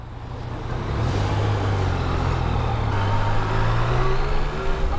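A Yamaha Tracer motorcycle engine runs steadily and loudly close by, a low rumbling drone that rises slightly in pitch toward the middle and holds through to the end, with no talking.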